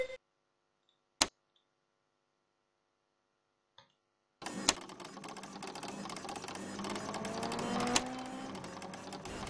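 A blue money printer in Garry's Mod, a Police RP game, starts up after a couple of sharp clicks and then runs steadily with a whirring, rattling mechanical hum that rises slightly as it continues.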